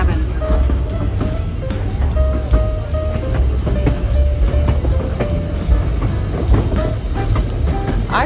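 White Pass Summit excursion train rolling along rails near Skagway, Alaska, with steady rumbling and rhythmic clickety-clack wheel clatter throughout, close and continuous, with faint tonal squeals.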